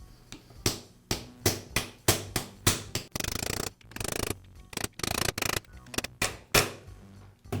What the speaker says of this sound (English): use a socket to tap it into place